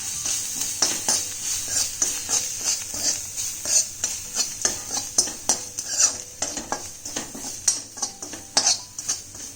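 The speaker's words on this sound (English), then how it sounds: "I'm also adding in freshly grated coconut and give this a quick mix" Freshly grated coconut stirred into a spiced masala in a pan for capsicum rice, giving rapid scraping and clinking of a utensil on metal over a soft sizzle, close and continuous.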